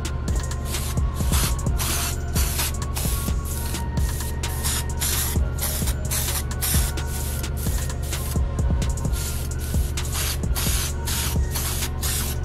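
Repeated bursts of an aerosol spray paint can misting over 70mm BBS wheel center caps, a steady loud hiss cut into short and long pulses over a constant low hum, with no voices.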